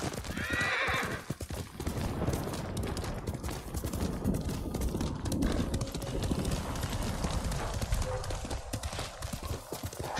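A horse whinnies in Ghost of Tsushima, then hooves clip-clop steadily and close, loud and continuous over a busy game soundscape.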